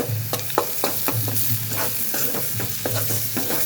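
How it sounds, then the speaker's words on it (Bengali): Garlic paste frying in oil in a pan for a shrimp and taro stolon curry, a steady close sizzle broken by regular scraping stirs of a spatula, with no talking. "এখন আমি দিয়ে দিব রসুন বাটা রসুন একটু ভালো করে ভাজা ভাজা করে নিব"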